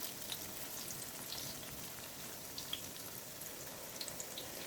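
Sliced eggplant frying in a pan over medium heat, a steady soft sizzle and crackle with occasional small pops, faint and continuous with no talking.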